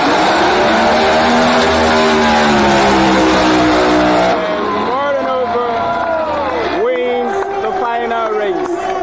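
Drag race cars roar at the No Prep Elite final in Dallas, Texas, Murder Nova against Paige Coughlin, loud sustained engine howl shifting into rising and falling revs with tire screech, a voice talking over the noise.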